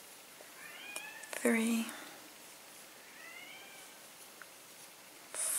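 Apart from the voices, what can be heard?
cat meowing outside a door, wanting to come in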